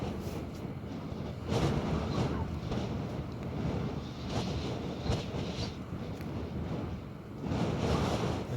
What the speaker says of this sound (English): The RVs are rocking in the wind. Some pretty high wind gusts.